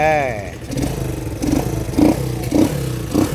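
A Suzuki Hayate 125 motorcycle fitted with a replacement Dash carburetor is started, giving a series of rhythmic engine pulses while people talk nearby.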